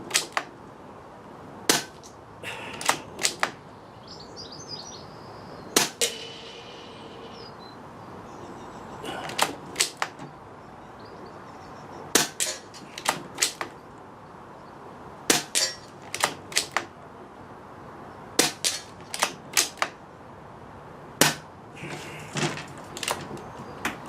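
Air Arms S200 air rifle shots ring out outdoors in wind, sharp crisp cracks each followed by a quick metallic clack, spaced irregularly several seconds apart over a faint breezy background.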